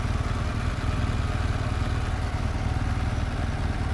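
A BMW R1200 GS Adventure motorcycle's engine runs steadily while the bike is being ridden, a continuous low rumble with clattering overtones that stays loud and close throughout.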